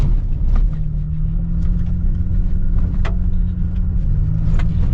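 A 2022 Toyota Tacoma TRD Pro drives slowly off-road in 4-wheel drive, its engine a steady, loud, close low rumble with a sustained drone throughout and no talking.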